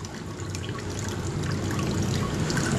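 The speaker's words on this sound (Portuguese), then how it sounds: "Agora a bombinha vai começar a fazer seu trabalho. Vou empurrar a água para cá." Water circulates through a small hose driven by a little electric pump during IPA home brewing, a steady close trickling and gurgling flow with no voices.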